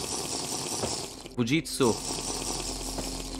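Flowing water in Minecraft gives a steady, fairly quiet rushing hiss throughout, with a short excited voice breaking in near the middle.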